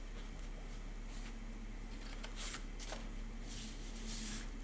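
A paper card for a Christmas scrapbooking album is handled and folded, with soft rustles and a few brief crisp crinkles close by against a quiet background.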